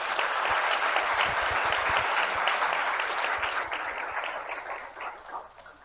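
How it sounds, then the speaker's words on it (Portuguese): A crowd claps steadily, a dense wash of applause that holds strong for several seconds before thinning out at the end. "Salve de palmas, por favor."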